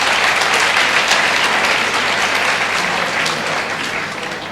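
Steady, dense applause from a ceremony audience at an academy felicitation event for top SSC CGLE 2018 results, loud and sustained throughout, easing slightly toward the end, with no talk over it.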